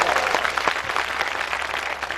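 A crowd claps in steady applause at a live Urdu poetry recital, a dense continuous patter of many hands filling the space for about two seconds.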